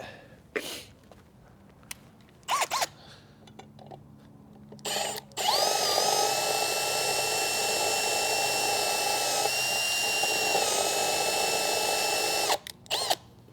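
A power drill with cutting fluid on the bit bores into metal during front end link work on a 2015 Subaru WRX: brief bursts of the motor first, then a loud sustained whine for several seconds, close and unaccompanied by speech.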